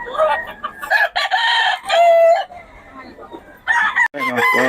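Chickens at Bocaue, with roosters crowing loudly several times in long drawn-out calls, interspersed with clucking and general farmyard fowl noise close by.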